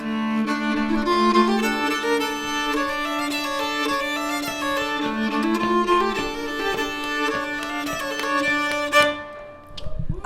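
A bowed Norwegian folk fiddle with four playable and twelve resonance strings plays a lilting melody with rich ringing sympathetic overtones, sustained notes sliding between pitches, ending with a brief fade.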